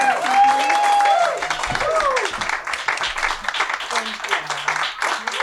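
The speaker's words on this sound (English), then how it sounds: "And now the biggest round of applause for our hosts, Ellie, Dvorkin, Dunn." An audience at a live storytelling show at Grove 34 applauds its hosts, a lively round of clapping and cheering with a voice talking over it and tapering toward the end.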